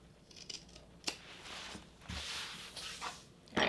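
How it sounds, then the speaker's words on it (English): Scissors trimming the fabric corners of a large travel tote with foam interfacing, giving a few crisp snips and cloth rustles at close range with no talk. "So right here at the corners, I'm just going to trim down at an angle."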